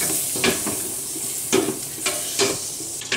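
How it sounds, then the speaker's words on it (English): Butter melts over medium-high heat in a hot pan for corn chowder, a steady sizzle broken by several scraping stirs of a utensil, close and fairly loud with no talking. "Add your butter. Mix it around, get it all nice and melted."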